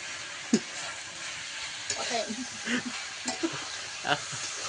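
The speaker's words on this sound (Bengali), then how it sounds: "এখন আলু দেওয়া হয়েছে, তারপরে একটু নাড়াচাড়া করব" Potatoes stirred in a pot of chicken curry, with a soft sizzle underneath and several scraping and knocking strokes of a spoon against the pot, close by.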